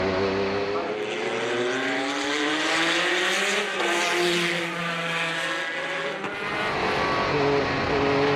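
A 1990 Trust Porsche 962C race car roars along the track, its engine note climbing and shifting through strong harmonic tones, loud and close, with a brief dip before surging again toward the end.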